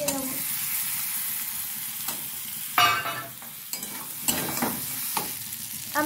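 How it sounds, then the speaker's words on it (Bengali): Fried potatoes tipped into a sizzling paneer curry base in a pan, with a steady close sizzle broken by several sharp bursts and scraping stirs of a spoon. "এবার এর মধ্যে আলুগুলো সব দিয়ে দেবো, ভাজা আলুগুলো সব দিয়ে দেবো।"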